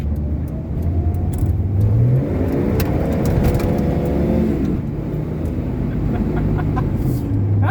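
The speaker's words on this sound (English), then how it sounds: "you pin it with these winter tires on it, and it'll just spin them just like that" A car with winter tires revs hard on gravel and dirt, the engine rising and falling in a loud, close roar that runs through the whole stretch, with a rooster crowing in the background.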